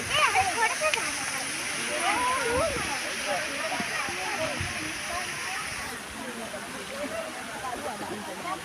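Steady rushing wash of water spilling from a small man-made waterfall into a stream at a fish theme park, continuous and fairly close, with faint chirping and murmuring sounds underneath.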